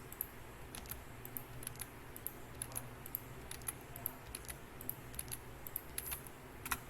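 Keys on a computer keyboard are tapped in irregular bursts of sharp, light clicks while plus symbols are typed into spreadsheet cells, quiet and close with a faint background hum and no voices.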